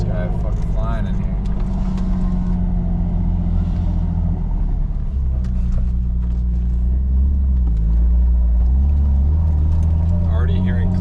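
A Lexus SC300 with a newly fitted differential drives along, its engine and road rumble steady and close from inside the cabin, with people talking over it throughout.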